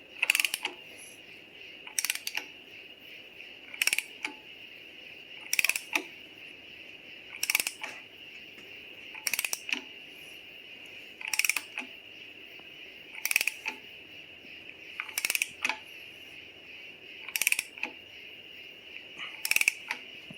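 Box socket ratchet working a Slant 6 timing cover bolt: about ten short, sharp clicking strokes repeat at a steady pace of roughly one every two seconds, close and clear with quiet pauses between them.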